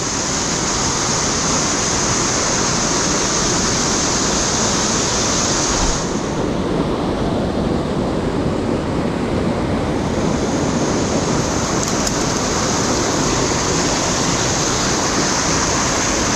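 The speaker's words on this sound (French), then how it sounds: "On va traverser la cascade." Loud, steady roar of a waterfall in a gorge fills the whole stretch, a continuous close-up cascade with wind-like hiss and no pauses.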